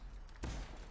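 A single gunshot from a gun in the video game Anthem bursts out sharply partway through, a loud, booming blast that lingers briefly after a quiet lead-in.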